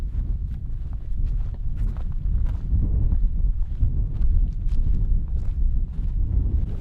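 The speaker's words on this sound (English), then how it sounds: "Unfortunately, everyone, the wind is back." Wind in the desert badlands buffets the microphone with heavy, low rumbling gusts that carry on without a break, over faint crunching as if from footsteps.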